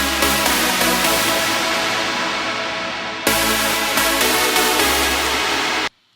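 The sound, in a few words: synthesizer chords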